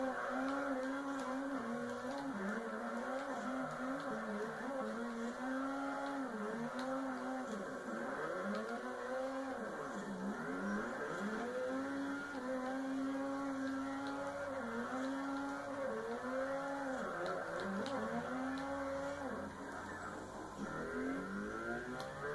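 A car drifting in Forza Horizon gives a steady engine drone whose pitch rises and falls repeatedly as it revs through slides, continuous and close without talk.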